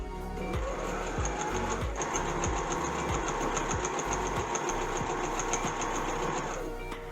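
Sewing machine back stitching a welt pocket, a continuous close mechanical hum with a fast regular needle chatter running almost the whole time, steady and fairly loud before stopping at the end.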